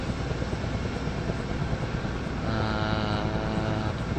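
Helicopter flying in a Minecraft helicopter mod: a steady, continuous rotor and engine drone that stays loud throughout, with a faint whine entering partway through and no voices.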